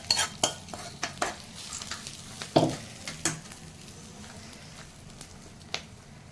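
A spoon scrapes and stirs fried tempering of green chilies and spices through cooked rice for lemon pulihora, giving sharp intermittent clinks and scrapes against the pan over a quiet background.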